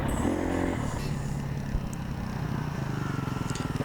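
A Kawasaki trail motorcycle passes on a hillside trail ride, its engine droning and revving loudly nearby, with clattering and scraping mixed in and no clear talk.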